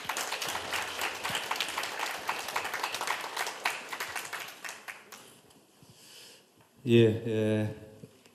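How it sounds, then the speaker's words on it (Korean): Audience applause at a provincial policy forum in Gyeongbuk, a dense burst of many hands clapping that fills most of the stretch, then fades before a short spoken phrase near the end. "박수 한번 크게 부탁드립니다"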